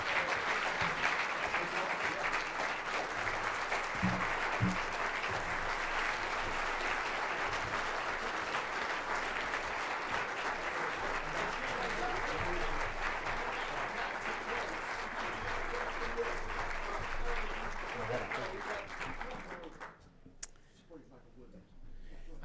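A long, sustained round of applause from a large audience at a political summit, dense and even for about twenty seconds before cutting off abruptly, with a few faint voices underneath.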